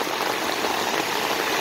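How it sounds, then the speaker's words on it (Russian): A strong torrent of rainwater rushes down a street in heavy rain, a dense, steady broadband roar and splashing hiss, close and unbroken, with no voices. "Очень сильный поток, и вот когда через него проходишь, складывается ощущение, что ты идешь в какой-то горной реке"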